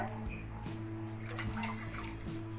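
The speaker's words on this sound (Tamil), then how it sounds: "இன்னும் ஒரு அரை கப்பு ஊற்றிக்கிறேன் தண்ணி" Half a cup of water being poured into a cooking pot for sambar rice, a steady close trickle over a low kitchen hum, with no speech.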